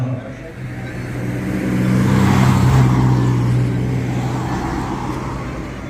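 Dense road traffic streams past near a temple candle-offering procession, a continuous roar of cars and trucks that swells as a vehicle passes close midway, then eases.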